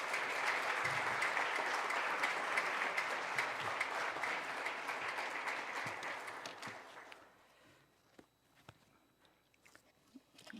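A seated audience at a Korean seminary's presidential farewell and inauguration ceremony claps in sustained, even applause for about seven seconds before it thins out to a few stray claps and room noise.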